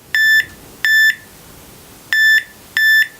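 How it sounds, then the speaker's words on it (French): A Bentel KYO alarm panel gives four short, high electronic beeps in an uneven pattern while it arms, clear and alone against a quiet room. "Vous entendez le petit bip?"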